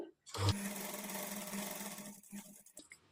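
A sewing machine stitches a double-folded hem on a front-slit designer kurti, running in one steady motorised burst after a short start, then slowing and stopping with a few light clicks.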